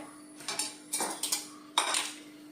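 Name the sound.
spoon stirring wheat flour and milk mixture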